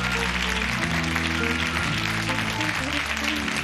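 Steady crowd applause fills a concert hall, dense and continuous, with sustained keyboard and band tones ringing underneath throughout.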